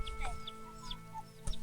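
Chickens clucking and chirping in a cold-season rural village, several short bird calls scattered over a steady low background hum, fairly faint and distant.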